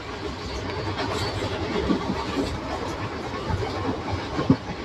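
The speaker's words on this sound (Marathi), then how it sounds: "आता लांबून एक ट्रेन येताना दिसते." A freight train of tanker wagons hauled by a WAG9 electric locomotive approaches near Karad railway station, a broad steady rumble with rhythmic wheel clatter that holds fairly loud throughout.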